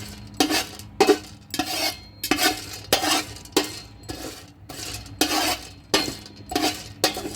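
Cardamom, about 20 grams, stirred and dry-roasted in a pan on low heat, giving a steady rhythm of scraping, clinking spoon-on-metal strokes roughly every half second, close and fairly loud with no talking.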